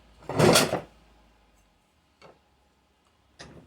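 A copper boiler piece clamped in a vise in a workshop takes one loud, dull knock, then two faint light taps a couple of seconds apart, with no talking.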